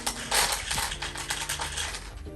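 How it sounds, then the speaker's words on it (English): An automatic cat feeder whirs and clicks as it dispenses food, a short run of close mechanical ratcheting and rattling that stays fairly quiet and continuous with no voices. "That's my cat's automatic feeder."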